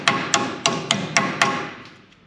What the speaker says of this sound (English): To tap the new seal in.